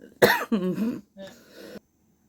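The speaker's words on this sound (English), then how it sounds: "The coughing fits." A short burst of harsh coughs, two or three in quick succession, close and fairly loud, followed by silence.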